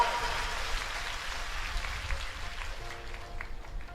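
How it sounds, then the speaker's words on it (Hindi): An audience applauds at a religious storytelling gathering, a steady wash of clapping over a low rumble, fading slightly toward the end. "जोरदार तालियों से निमंत्रण स्वीकार किया जाए।"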